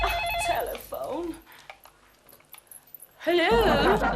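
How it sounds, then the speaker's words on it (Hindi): A telephone rings in a Hindi sitcom scene, bursts of electronic trilling between and under voices, with people talking over it and a quieter gap with faint clatter in the middle. "टेलीफोन।"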